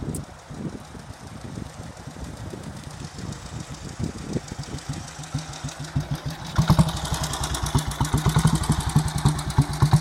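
A 1940 Royal Enfield Model C motorcycle engine idles nearby in a car park with a loping single-cylinder thump, then revs up into a denser, louder beat over the final seconds.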